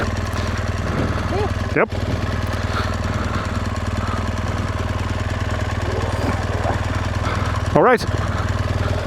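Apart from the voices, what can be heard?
motorcycle engine idling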